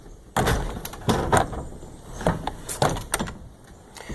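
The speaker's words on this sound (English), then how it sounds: "the way that this works is I get to roll my door shut" A rolling door is pushed shut, giving a series of rattling, clattering knocks and scrapes at irregular intervals, close and moderately loud over a steady background hiss.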